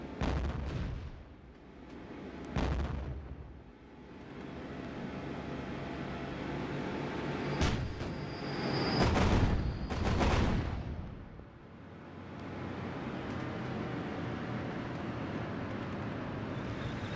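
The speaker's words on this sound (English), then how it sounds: "Just as the aircraft's coming in, they're getting their range, getting their eye in. So here come the Havocs." Havoc aircraft airstrike in the Theatre of War 2 video game, set in Africa 1943 at the Kasserine Pass: repeated heavy booming explosions and rumbling blasts, loud and close, with a sustained roar between impacts.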